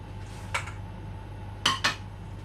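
Kidney beans and gungo peas tip into a cooking pot for rice and peas, marked by a few sharp metallic clinks and a short rattle over a quiet kitchen hum.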